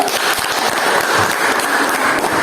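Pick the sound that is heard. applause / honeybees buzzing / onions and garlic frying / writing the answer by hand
applause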